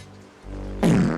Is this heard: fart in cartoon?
yes